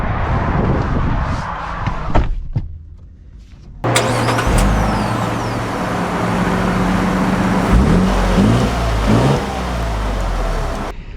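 A 2024 Lexus GX550 Overtrail SUV pulls away, its engine rising from a quiet start into a steady, swelling drive with road and cabin noise that carries through to the end.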